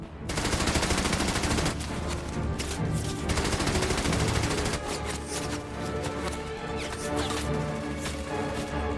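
Dense, continuous German small-arms and machine-gun fire with overlapping bursts and sharp cracks, a sustained wartime barrage on an open battlefield; loud and close throughout, no voices.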